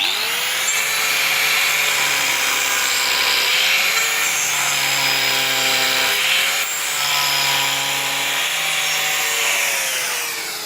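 A power sander whines continuously on wood, its pitch rising and dipping as it is pushed back and forth, loud and close.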